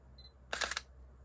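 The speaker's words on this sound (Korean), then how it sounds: "초기 이제 넥스라서 셔터음이 좀 뭐라 그럴까" An early Sony NEX mirrorless camera fires its shutter once, giving a quick, crisp double-clack burst that stands out against a quiet room.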